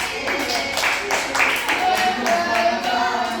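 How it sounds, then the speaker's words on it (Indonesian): Classroom applause during a micro-teaching practice lesson, a short burst of students clapping in uneven rhythm, fairly close and moderately loud, mixed with voices talking over it. "tepuk tangan dulu buat yang tadi sudah menjawab pertanyaan"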